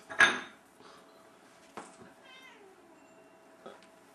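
A kitten meows faintly a few times in a quiet room, with a loud thump at the start and soft clinks and handling noises, while a child is nearby.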